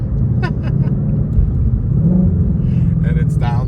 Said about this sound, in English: And it's downshifting again, which is awesome.